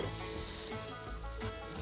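Garlic and onion fry in a pan with a steady, close sizzle and crackle, and no voices.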